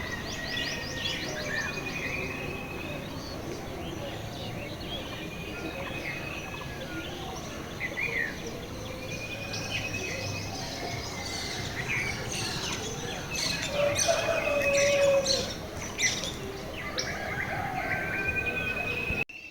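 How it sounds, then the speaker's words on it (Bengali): Many kinds of birds call at dawn around a village rooftop, with overlapping chirps, whistles and trills near and far, some louder calls close by over a steady background chorus. "দেখলে কত রকম পাখির আওয়াজ শোনা যায়।"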